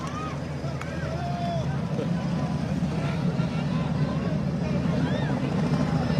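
A helicopter lands on a football pitch during a Waling Gold Cup semifinal match, its steady rotor and engine drone continuous throughout, with voices heard over it.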